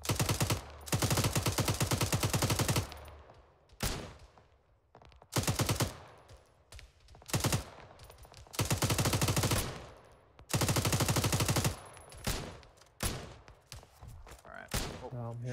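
A squad fires in the Arma 3 video game: loud, rapid automatic bursts alternate with short single shots and brief lulls, close by, repeating across the whole stretch.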